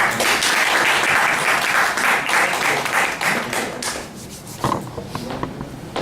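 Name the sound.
audience applause welcoming speaker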